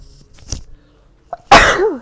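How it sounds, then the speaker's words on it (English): One sharp, loud sneeze bursts out near the end, preceded by a small sniff and a brief catch of breath in an otherwise quiet room. "hang on, I have to sneeze."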